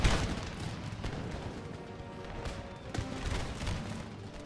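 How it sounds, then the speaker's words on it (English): A double-rank musket volley in Empire Total War, heard as a continuous crackling fusillade with a few sharper reports standing out, moderately loud and steady over several seconds with no speech on top. "With double rank firing"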